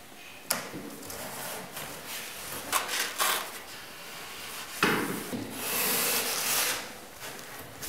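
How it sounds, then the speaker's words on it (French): Insulating tape is pulled and pressed along the side edge of a bathtub with feet, making close, soft rubbing and scraping strokes with a few sharper taps, heard alone without talk. "Applique du ruban isolant sur l'ensemble du bord latéral de la baignoire."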